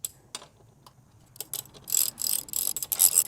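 Wrench working loose the rear axle bolt on a Honda Grom motorcycle during a chain adjuster install, heard as sparse ratcheting clicks that build into louder bursts of metallic grinding near the end, with no talk.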